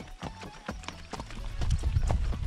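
A mare's hooves walk at a steady pace with a close, rhythmic clip-clop of repeated footfalls on firm ground.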